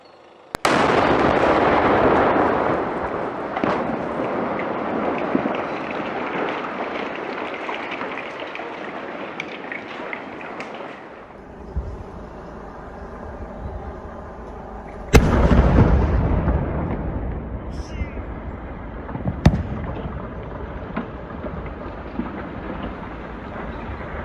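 Controlled detonation of an unexploded WWII bomb in Exeter, 2021: a single heavy blast bursts out, its roar and rumble rolling on and fading, then a second loud crack-like burst follows with lingering debris noise and echo.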